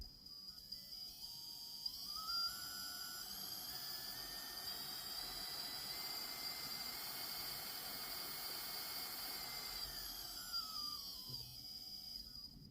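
A powerful brushless motor spins up to a high whine, holds a steady rising tone with airy hiss, then winds back down, quiet and close.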